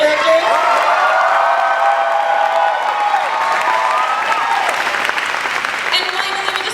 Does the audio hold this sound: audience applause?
yes